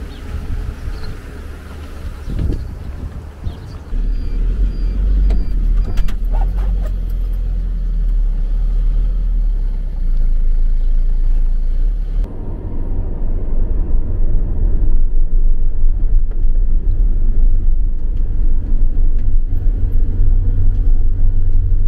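A tour bus driving on a road at Rhodes or Bodrum on a Greek island cruise outing, a steady low engine rumble and road noise that swells after a few seconds and continues loud throughout with no talking.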